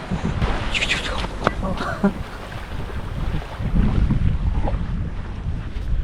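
Sea waves breaking on the beach at Dhanushkodi, a continuous wash of surf mixed with strong wind buffeting the microphone and swelling toward the end, while someone talks over it.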